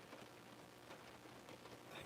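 Rain falls steadily in a soft, continuous patter of drops on surfaces, faint and even throughout with no voices.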